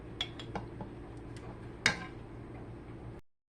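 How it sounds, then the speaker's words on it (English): Ingredients for an old-fashioned potato salad being stirred together in a bowl: a few light clinks and taps of a utensil against the bowl, one sharper knock midway, over a quiet room. "stir that all together in your bowl"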